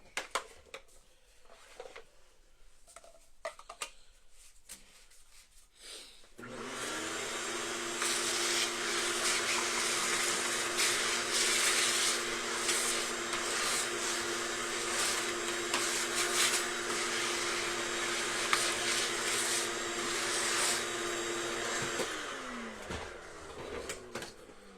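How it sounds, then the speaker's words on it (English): A vacuum cleaner on a homebrew pinball machine starts after a few seconds of clicks and handling, then runs as a steady, loud whining roar for about fifteen seconds before cutting off abruptly. "I'm going to vacuum this up first,"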